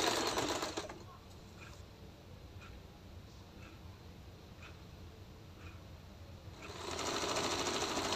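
A sewing machine runs at a steady pace stitching the curved crotch seam of a salwar, with even rapid needle clatter and faint periodic ticks, louder bursts at the start and end.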